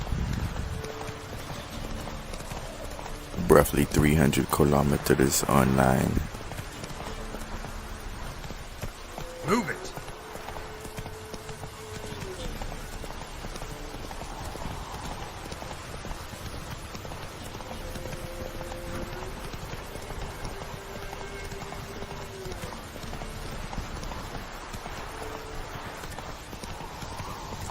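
Horse hooves clip-clop in a short quick burst while Roach is ridden in The Witcher 3, followed by quieter ambient game sounds as someone speaks briefly.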